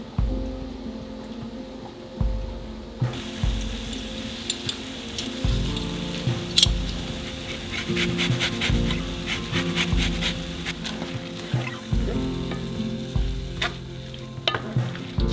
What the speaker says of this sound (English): Now we'll add this blended mixture into the pan with the rest of the ingredients.